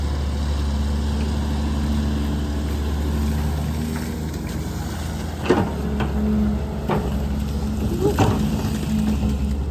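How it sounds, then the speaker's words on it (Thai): A car engine that smokes when revved rumbles steadily at idle, rising a little in a few brief revs near the end, recorded close by. "เร่งเครื่องเท่าไหร่ ฮะควันมันออก"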